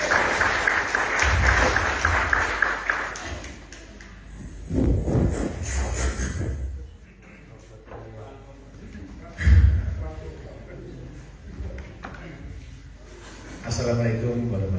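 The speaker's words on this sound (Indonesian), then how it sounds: "Mohon tepuk tangan Bapak Bayu." Audience applause at a speaking event as the final session's speaker is introduced, a short swell of clapping rising over the room noise amid surrounding talk.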